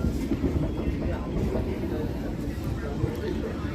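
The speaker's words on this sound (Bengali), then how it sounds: "মোটামুটি বনগা স্টেশনের প্ল্যাটফর্ম আমাদের ট্রেন ক্রস করে বেরিয়ে এসছে" A local train rumbles out of the Bongaon station platform in a loud, continuous, close-up roar of wheels and carriage. Murmuring voices sit faintly beneath it.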